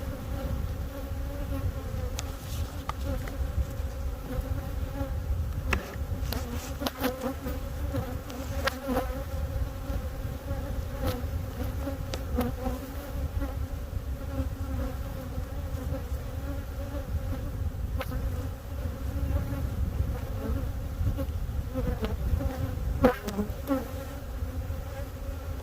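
Honey bees buzz steadily inside an open hive where a queen cell is being placed in the middle of the cluster, a dense, continuous drone with brief louder bursts and no talk.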